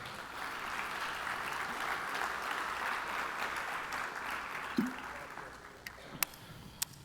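A church congregation applauds together, a steady wash of clapping for several seconds that fades near the end, leaving a few scattered claps.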